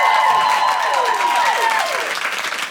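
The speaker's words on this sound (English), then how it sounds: "Could I have an absolutely huge round of applause for Linnéa Freear?" A large audience claps loudly and steadily after a live event, a dense sustained wash of applause that slowly thins out toward the end.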